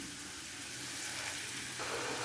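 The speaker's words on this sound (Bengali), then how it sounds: "তো এখানে আমি সব আইটেমের গুঁড়া মশলাগুলো দিয়ে পেঁয়াজটা মশলাটাকে কষিয়ে নিতেছি" Sliced onion and ground spices frying together in a pan for a Bengali rohu fish and potato curry, giving a steady, close, soft sizzle with no talking.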